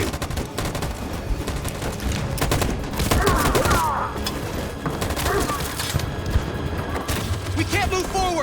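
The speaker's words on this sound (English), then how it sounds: "That machine gun is taking down everything that moves!" Sustained machine gun fire in a Detroit: Become Human battle, dense rapid bursts with booming impacts throughout, mixed with shouted voices over the chaos.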